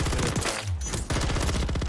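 An SVA rifle fires in a fast-paced online shooter match: loud, rapid automatic bursts crackling close by, with a brief pause midway before sustained gunfire resumes.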